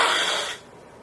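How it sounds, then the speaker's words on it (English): A person blows their nose once, a loud, breathy burst of about half a second that cuts off into quiet room tone. "I'm gonna blow my nose."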